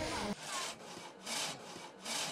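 Wood being sawn by hand with a saw in traditional forest woodworking, three long rasping strokes in steady rhythm, close and clear with no talk.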